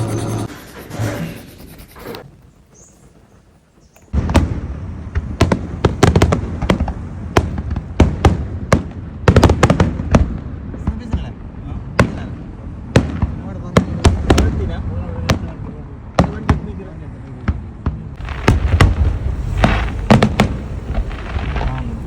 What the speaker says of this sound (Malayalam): മനോഹരമായിട്ടുള്ളൊരു ഫയർ വർക്സാണ് നമ്മൾ കണ്ടത്